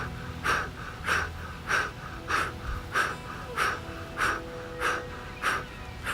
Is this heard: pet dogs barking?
no